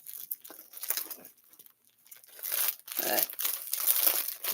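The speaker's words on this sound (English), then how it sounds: "sorry about the crinkling" Plastic packaging around a small yarn order crinkles and crackles as it is torn open by hand, close and fairly loud, in irregular bursts with a brief lull midway and a single spoken word at the start.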